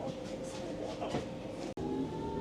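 A small S-Bahn commuter train pulls out of a station, its low motor whine and rumble rising steadily from inside the carriage, briefly cut by one sharp clunk before carrying on.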